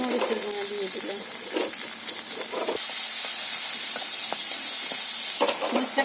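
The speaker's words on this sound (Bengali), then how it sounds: "মশলা কষানো হয়ে গেছে" Spice paste of onion, green chili, fresh ground masala, salt, turmeric and chili powder sautéed in a pan, a loud steady sizzle with occasional stirring scrapes, close by.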